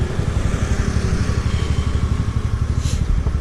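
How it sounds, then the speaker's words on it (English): A TVS NTorq scooter engine running low on petrol putters steadily up close, with an uneven, pulsing low-pitched chug under constant road noise. "I feel that the bike is jerking now."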